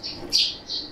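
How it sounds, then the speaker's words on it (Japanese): Birds chirp close by outdoors, three short bright calls in quick succession over quiet background, with no talking. "鳥たちも 応援してくれてますね"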